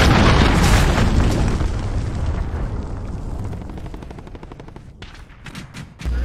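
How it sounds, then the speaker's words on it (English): A cruise missile strike in the Call of Duty video game lands with loud, dense blasts and rumbling booms under rapid crackling gunfire, fading slightly before several sharp bursts near the end. "Cruise missile incoming!"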